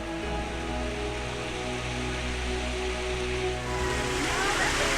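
Broadband rushing water from a waterfall in Khao Sok National Park, Thailand, a steady close wash that swells slightly near the end, with faint voices and tonal background sounds mixed in.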